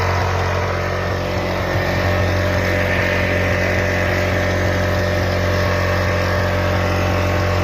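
A freshly started inverter generator runs with eco mode switched off, holding a loud, steady engine drone with a constant hum and no change in pace, close by.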